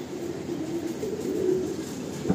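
A Madrasi or Andhra pigeon gives a low, continuous throaty cooing murmur, fairly faint and steady, with no voices.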